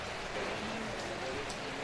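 Steady morning rain falls during a wedding ceremony, a continuous even hiss that fills the whole stretch, with faint murmuring voices underneath.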